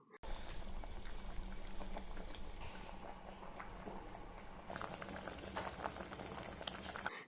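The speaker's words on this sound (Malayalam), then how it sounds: "അടച്ചു വച്ച് വേവിക്കുക. തിള വന്നാൽ തുറന്നു വച്ച് വേവിക്കാം." Kerala sambar with rock salt and water simmering in a covered pot, a soft continuous bubbling and patter heard up close and faint, with no talking.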